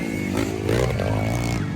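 An 85cc motorcycle races in a local enduro motocross final heat, its engine buzzing loudly with rising and falling revs as it passes nearby, blended with crowd noise.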